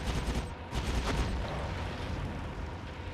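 A flurry of gunfire in the video game Soldier of Fortune cracks early on, several sharp shots in quick succession, then continued noisy rumble without clear individual shots.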